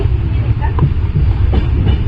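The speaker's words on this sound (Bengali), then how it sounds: "প্রথমবার আমরা এরকমভাবে ট্রেনে খাওয়া দাওয়া করব," Inside a moving passenger train, a loud, steady low rumble and rattle of the carriage continues throughout, with a few faint clicks over it.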